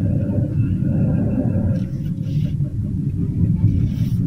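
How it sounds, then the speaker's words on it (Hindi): Worn front brake pads on a car grind metal-to-metal under braking, a few short harsh scraping bursts rising over a constant low road and engine rumble. "गाड़ी से एक भयंकर सा मेटल टू मेटल घिसने जैसा आवाज आ रहा है"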